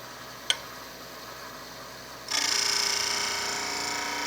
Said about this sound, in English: So one more pass with the skew to get it a bit thinner here